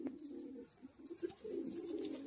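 Pigeons cooing in a loft, soft low burbling coos repeating close by, fairly quiet, over a steady high-pitched hiss.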